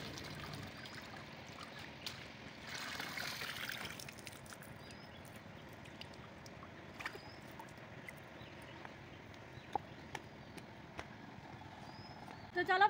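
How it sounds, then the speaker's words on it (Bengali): Radish greens rinsed by hand in outdoor pond water, giving soft, intermittent trickles and light splashes under a steady ambient background, with a voice speaking at times. "মূলো শাকটা এই যে প্রথমে আমি পুকুরের জলে নিয়ে এসেছি, এখানে ভালো করে ধুয়ে নেবো"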